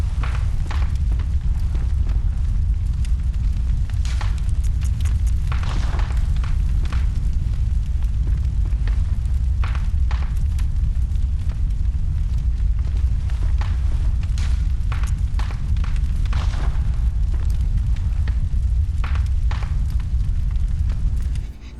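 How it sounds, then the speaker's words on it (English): Crackling fire in the Bloodborne video game, a dense, continuous bed of popping and snapping crackles over a low rumble, steady throughout. "It's crackling fire."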